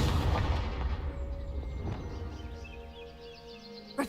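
A Confringo blasting spell goes off in a video game, a loud booming explosion at the start that rumbles and fades over several seconds, with a small pop at the very end.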